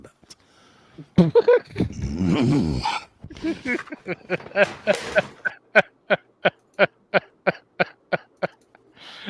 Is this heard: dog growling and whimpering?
yes